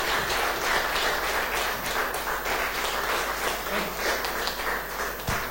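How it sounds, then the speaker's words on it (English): An audience rises to its feet and claps: dense, steady applause from many hands fills the room at even loudness throughout, with no pauses. "we all stand up and applause and give him an applause for this"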